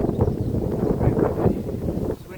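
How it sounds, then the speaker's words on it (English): Gusty wind buffets the microphone in a low, rumbling roar that rises and falls, loud and close, with no other clear sounds. "but it's still really windy"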